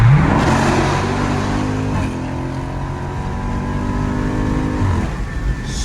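A car engine fitted with a cold air intake revs loud and steady up close, its tone rising and holding. Its rumble is continuous throughout.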